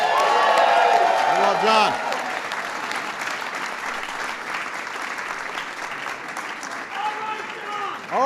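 Audience applause and cheering for someone at an LGBT Pride reception, a loud, dense wash of clapping lasting throughout, with a speaker's voice and crowd shouts over it at the start and end.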